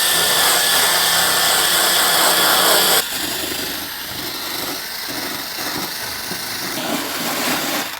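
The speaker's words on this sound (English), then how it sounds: "removing the surface rust as well as any loose paint using a wire wheel" A drill-driven wire wheel whirs loudly against an Audi's metal, removing surface rust and loose paint, steady and harsh, shifting tone partway through as the pressure changes.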